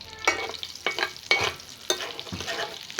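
Hilsa fish fries in oil in a village kitchen, with a crackling, spitting sizzle and several sharp pops and scrapes as pieces are lifted out of the pan.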